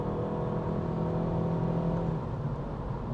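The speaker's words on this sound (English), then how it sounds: "So I'm going to accelerate a little bit here, let you listen." A 2023 Acura Integra A-Spec accelerates from inside the cabin, its engine and exhaust giving a steady, loud drone with a rising tonal hum that holds throughout, with no talking.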